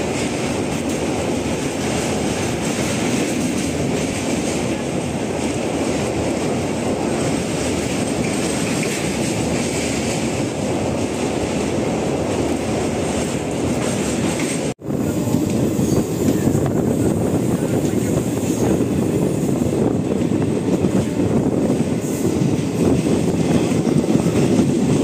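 Circar Express crossing the bridge at Rajahmundry, a loud, steady rumble of carriages rolling over the track that runs unbroken for the whole stretch, with a brief dropout partway before the roar resumes.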